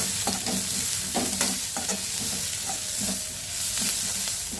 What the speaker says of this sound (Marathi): त्यानंतर मी हिरवी मिरची घालून घेणार आहे। त्याला आपण 1-2 मिनिटं चमच्याने हलवून घेणार आहे।